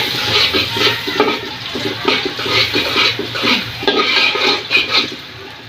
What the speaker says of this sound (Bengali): তেলটা গরম হয়ে গেছে, এখন আমি দিয়ে দিচ্ছি পেঁয়াজ কুচি।